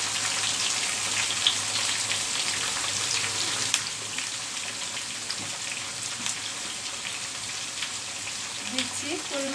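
Raw mango pieces fry in a pan over medium-low heat for a mango pickle, giving a steady, close, even sizzle that hisses continuously with faint crackles and no talk over it.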